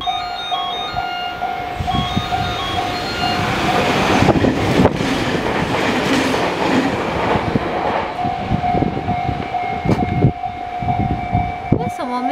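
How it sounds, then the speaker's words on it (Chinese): Passenger train carrying a rider back from the Mount Fuji area, heard from inside as a steady, close rumble with a sustained tonal whine and occasional rattling clacks throughout. "我现在一个人就是搭火车回去。"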